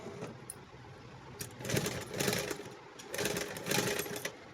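Sewing machine reverse-stitching a seam on a pair of pants, running in two short bursts of rapid mechanical whirring and clatter with quieter pauses between, fairly close.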